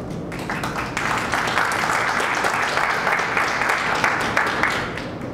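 Applause from the audience at a book presentation at EXPO PUBLICA 2014 in Mexico, a steady roomful of clapping that swells after a moment and holds, moderately loud, with a faint voice or two underneath.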